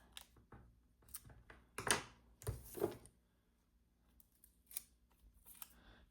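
Scissors cut paper for a planner spread, a few faint, close snips and crisp cuts scattered through a quiet room, with no one speaking.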